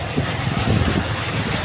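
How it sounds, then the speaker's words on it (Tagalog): Strong wind and large Pacific Ocean waves at sea, heard as a loud, continuous broadband rush with rumbling low swells and no speech. "medyo talaga malalaki na ang alon. Lakas pati ang hangin po."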